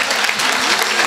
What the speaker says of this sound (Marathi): शंभूसाठी एकदा जोरात टाळी वाजवा.